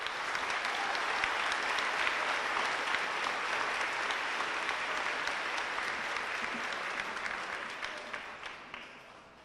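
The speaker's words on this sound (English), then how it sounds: "Give these folks a round of applause." An audience at a school academic awards banquet claps together in dense, sustained applause for about nine seconds, fairly close and loud, thinning out into scattered claps at the end.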